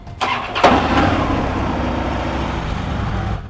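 A 2009 Harley-Davidson Ultra Classic Electra Glide (FLHTCU) motorcycle engine cranks and fires up, then settles into a steady, loud idle rumble close by, with no talk over it.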